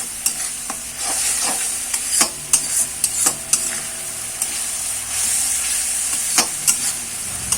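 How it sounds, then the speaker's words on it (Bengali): Spice paste for a fish curry fries loudly in a pan, with repeated scraping and stirring clacks over a continuous sizzle. "মশলাটাকে নিয়ে ভালো করে কষিয়ে নেবো।"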